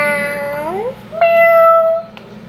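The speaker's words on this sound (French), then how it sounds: "Écoutez bien ça, son miaulement." A pet cat meows twice up close, the first cry drawn out and sliding upward, then a short pause before a second, steadier meow that ends in a faint click.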